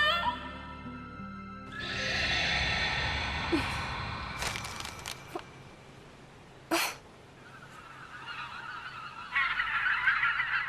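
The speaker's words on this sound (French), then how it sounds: "Les oiseaux." Geese honk loudly and repeatedly at close range, with harsh, nasal calls over a steady background wash.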